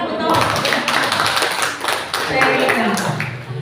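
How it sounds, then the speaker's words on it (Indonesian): A group applauds in an indoor training session on writing literacy and numeracy questions, a dense burst of clapping that runs steadily for a few seconds, close and loud. "Tepuk tangan untuk"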